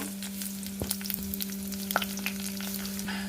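Mustard seeds and fenugreek sizzle in hot ghee and oil for a brinjal gojju, a close, steady crackling hiss with scattered sharp pops from the seeds and a faint background hum, without any talking.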